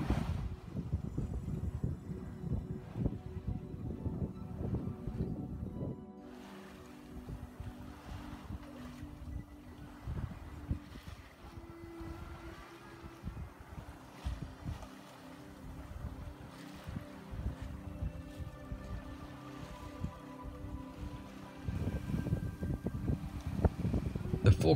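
An Island Packet 420 sailboat sails on a beam reach in about 11 to 12 knots of wind, with steady wind rush, water washing along the hull and occasional speech.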